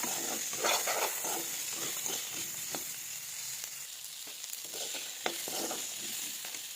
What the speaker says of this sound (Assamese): মটৰখিনি অকণমান মই ভাজি ল'ম।